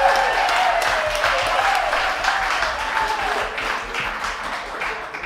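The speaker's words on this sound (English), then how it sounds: "Please, a round of applause." Audience applause after a live band performance at a concert venue, a steady wash of clapping that slowly fades, with a faint voice or instrument tone beneath it.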